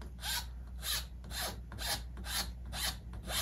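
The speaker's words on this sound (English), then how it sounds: "then you sand a little bit on this side, but not much." Rhythmic sanding strokes on a guitar bridge slot, about seven back-and-forth rasping passes in steady rhythm, close and clear with no talk.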